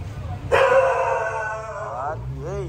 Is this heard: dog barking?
yes